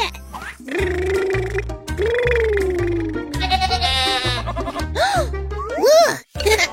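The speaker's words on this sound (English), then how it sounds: "It's a goat." A goat bleats several times, rising wavering calls standing out over a busy backdrop of thumping music and an excited voice talking throughout.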